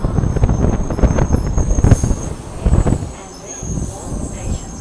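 A Tangara electric train arrives at Milsons Point station on a windy day, a rumbling, rolling approach with a high metallic squeal or whine over it, while wind buffets the microphone.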